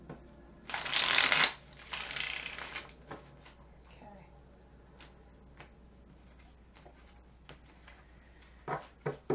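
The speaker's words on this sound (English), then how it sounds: "Last shuffle." Playing cards shuffled for a Taurus tarot-style reading, two loud riffling bursts near the start followed by quieter handling taps and soft card sounds, with no talk.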